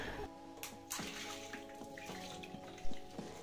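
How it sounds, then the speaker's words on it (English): Water poured over kitchen sink surfaces during a deep clean, a steady running splash with a few louder sloshes and clatters near the end, close by with no talking. "So I'll just pour water on the surfaces."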